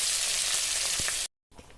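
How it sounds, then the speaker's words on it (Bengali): Tomatoes, spices and potatoes fry together in a pan for ghugni, making a dense, loud, close sizzle that cuts off abruptly, then resumes more quietly after a short gap. "টমেটো দিয়ে সমস্ত মশলা দিয়ে ভালো করে কষিয়ে নেবো"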